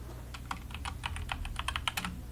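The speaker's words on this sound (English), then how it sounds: "He's typing a message." Rapid keystrokes click on a computer keyboard, irregular and close, over a low steady hum.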